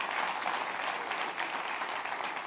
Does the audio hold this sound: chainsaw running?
no